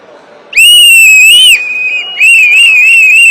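Loud, shrill whistles blown in overlapping bursts at a political party meeting, a long blast, a brief dip, then more sustained whistling over a faint crowd murmur.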